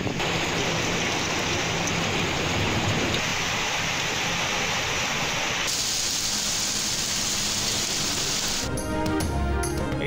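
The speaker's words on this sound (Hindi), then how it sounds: "इस्लामाबाद और पंजाब के मुख्तलिफ शहरों में मूसलाधार बारिश।" Torrential downpour in Islamabad and Punjab, a loud continuous hiss of heavy rain pounding surfaces, unbroken and close, with a brief rattling splash near the end.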